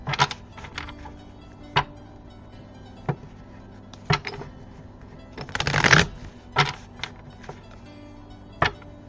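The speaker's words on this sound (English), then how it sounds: "Give me a moment as I shuffle these cards." Tarot cards are shuffled close up in short riffling bursts, several quick ones spaced apart and a longer, louder flurry midway, with quiet in between.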